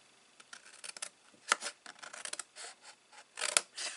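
Snipping scissors cutting through card, a run of short crisp cuts in irregular bursts, close and fairly quiet, with no talking.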